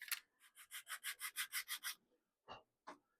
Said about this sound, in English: Sands very nicely too.